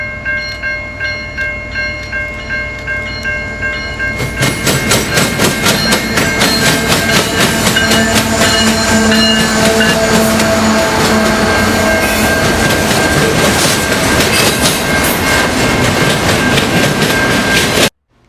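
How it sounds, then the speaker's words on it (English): A CN freight train led by locomotive 3021 rolls westbound with autorack cars on former Grand Trunk track, loud and close, a rhythmic clatter swelling into a steady rumble with squealing wheels before cutting off abruptly. "CN 3021 leads westbound racks on the former Grand Trunk."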